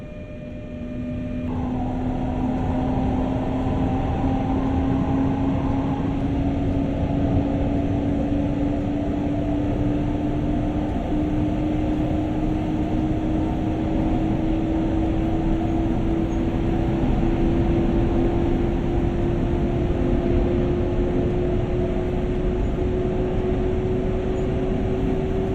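Interior of a double-deck coach hauled by a BR 146.2 electric locomotive in Train Sim World, with steady rolling rumble and a rising electric motor whine as the train gathers speed.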